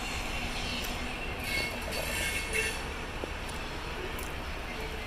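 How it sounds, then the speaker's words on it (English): A freight train passes through Albert Canyon, British Columbia, as a steady, faint rolling rumble of rail cars. Occasional faint clicks rise over the rumble, with no talk during the passage. "And here's the train, that's another one."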